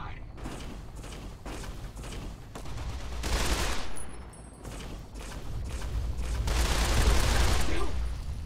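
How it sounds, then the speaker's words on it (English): A robot companion fires on an enemy in Fallout: New Vegas: rapid bursts of gunfire swell and fade in two long volleys, with mechanical rattling and creaks between them. "Go on, Whirly, keep shooting him."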